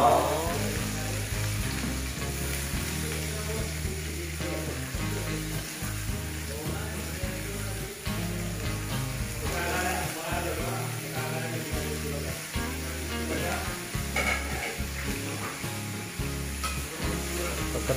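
String beans (sitaw) fry in hot oil, giving a dense sizzle that runs throughout. Repeated scraping and stirring strokes are heard close up.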